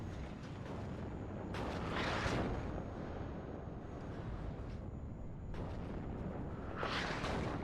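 Artillery fire from the WARNO real-time strategy game booms out in broad rumbling bursts, two large swells rising over a constant low battlefield roar, somewhat distant and without talk.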